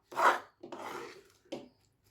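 White sesame seeds being stirred in a pan taken off the heat, three distinct rasping, scraping strokes close up, separated by short pauses.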